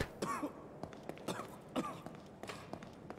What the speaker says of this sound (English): It takes Joseph like a bajillion hours to stop coughing.